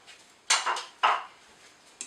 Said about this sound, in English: So I'm putting all that egg in there.